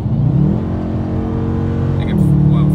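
A Dodge Challenger's engine pulls hard under acceleration, a loud, steady low growl that rises in pitch and swells near the end.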